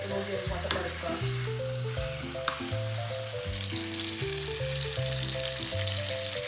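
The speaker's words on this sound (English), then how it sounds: "It's also good if you get a sear on the side part of it, like this, and then it'll give like a better crust." A steak searing in a hot pan gives a steady, close sizzle that runs the whole time, sitting under a light background melody.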